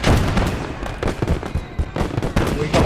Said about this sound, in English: vicious mortar fire here.